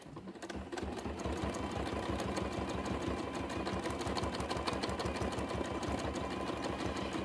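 Sewing machine doing free sketchy stitching on a fabric collage piece, a fast continuous mechanical chatter with rapid needle pulses that runs loudly and evenly throughout.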